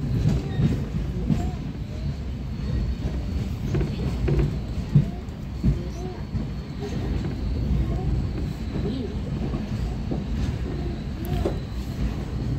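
An Amta local train runs past Ramrajatala station, a steady rumble with intermittent clatter of wheels over rail joints, carried on at a moderate level throughout with no voices.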